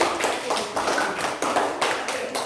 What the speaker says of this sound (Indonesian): mari kita berikan tepuk tangan untuk kelompok 2 yang telah mempresentasikan